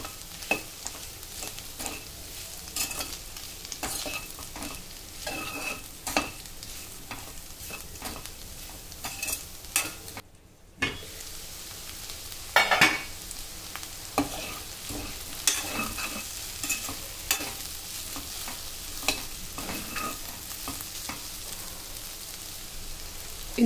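Cauliflower florets tossed with chili powder and salt in a frying pan, with a soft steady sizzle under repeated scraping and clattering stirs, a brief pause midway, then more stirring.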